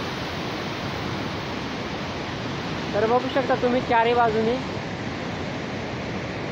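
Bhivtas waterfall in Surgana roars as a constant broadband rush of falling water, loud and steady, while someone speaks over it partway through.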